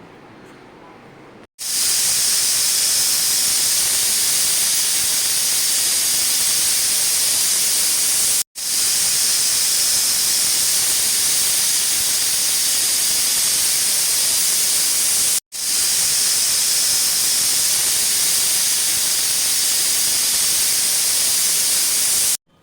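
A pressure cooker on low flame, cooking masoor dal with ridge gourd, lets out a loud, sustained steam hiss in three long bursts separated by abrupt short breaks, with no talking.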